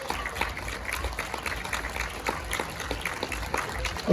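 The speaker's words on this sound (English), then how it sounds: "Big round of applause" A small crowd claps steadily at a 2021 display after a young participant's demonstration, an even patter of many hands lasting a few seconds, fairly close, with no voices over it.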